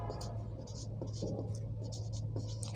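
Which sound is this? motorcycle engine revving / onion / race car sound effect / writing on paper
writing on paper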